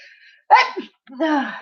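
A single sharp sneeze bursts out close and loud, followed by a short breathy catch, then a voice starts talking right after.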